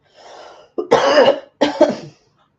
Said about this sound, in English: I have a cough coming, sorry.